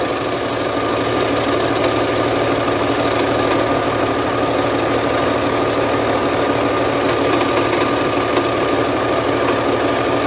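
Sewing machine stitching lastex elastic thread, a steady loud mechanical whir and rapid needle rhythm running continuously up close, with no talking.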